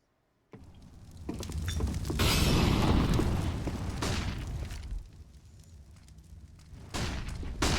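Frag grenades blow up in a Counter-Strike match: a sudden loud blast, then heavy rumbling booms and debris that swell and fade over several seconds, with another sharp burst near the end.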